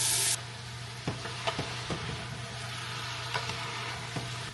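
Boiled beef tipped into a pan of golden-brown frying garlic and onion, a soft continuous sizzle with a few sharp clinks and stirring scrapes scattered through, quiet and close.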